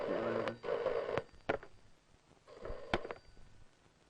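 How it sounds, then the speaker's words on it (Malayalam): A telephone rings at midnight in a quiet house, sounding two clear bursts of electronic ringing separated by a pause, fairly close and alone. "ആരാടാ ഈ പാതിരാക്ക് ഫോൺ ചെയ്ത് ഡിസ്റ്റർബ് ചെയ്യുന്നത്?"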